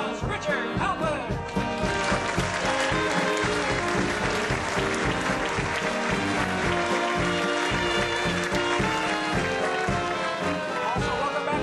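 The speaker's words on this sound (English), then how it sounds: "How about a big round of applause for Richard Halpern" Applause from a theatre audience at a Broadway-style show with an orchestra, sustained and fairly full for several seconds alongside musical sound, heard at a moderate distance.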